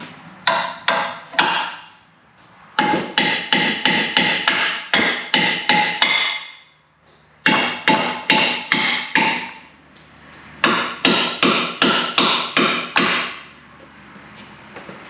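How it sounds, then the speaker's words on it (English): Sharp hammer blows knocking out steel cam pins on a truck's control arm mount, struck in quick rhythmic bursts of several hits with short pauses between, close and loud. "We'll just hit them out with a hammer"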